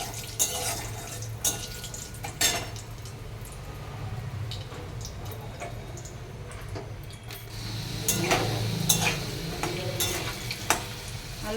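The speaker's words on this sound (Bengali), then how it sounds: "এখন জিরে দিয়ে দিই। জিরে আর তেজপাতা।" Cumin seeds and bay leaves sizzle in hot oil in a pan that has just fried paneer, a steady crackling hiss with scattered stirring clicks and scrapes, close by.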